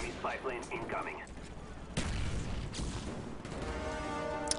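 Gunfire in the Call of Duty Black Ops video game on PC: several sharp shots ring out between patches of excited commentary, with a loud crack near the two-second mark and a steady bed of game noise underneath.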